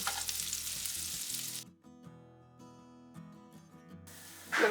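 Bread toasting in melted butter in a pan sizzles and fries steadily, loud at first, then dropping to a quieter crackle before swelling again at the end.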